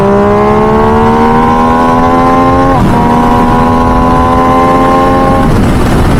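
A 2023 MV Agusta Dragster 800RR SCS motorcycle accelerates hard from third gear, its loud, tonal engine note climbing steadily in pitch, breaking briefly at a shift, then rising again.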